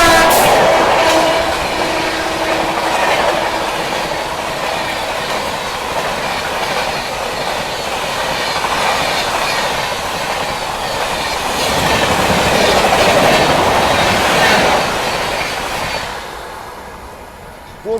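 Express trains rush past on the railway line at Firozabad station, a loud continuous rumble and clatter of wheels on track lasting nearly the whole stretch before fading toward the end.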